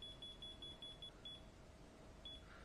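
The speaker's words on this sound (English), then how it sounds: "So there's the slow beep." A control unit searching for a Wi-Fi network gives off a slow run of thin, high-pitched beeps at a steady pace, faint over a low background hum, with no voices.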